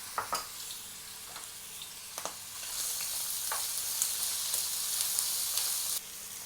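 Chicken pieces sizzle and crackle in a hot pan, a steady frying hiss with a few sharp taps and scrapes as they are dropped in.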